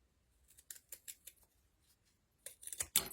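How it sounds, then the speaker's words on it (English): Scissors snip several times in a quick series, followed by a louder, sharper cut at the end, close and otherwise quiet. "Now you're just going to use your scissors. Scissors cut it perfect."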